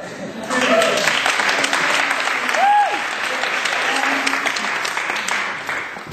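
An audience bursts into sustained applause, steady clapping from a crowd that swells and then tapers off, with a brief vocal whoop mixed in.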